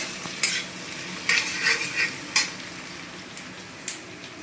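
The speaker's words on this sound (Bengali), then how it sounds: "পেঁয়াজটা ভাজা হয়ে গেছে।" Onions fry in a pan on a home stove: a soft, steady sizzle broken by several sharp spoon scrapes and stirring clatters against the metal, close and clear, with no voices.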